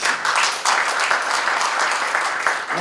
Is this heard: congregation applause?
yes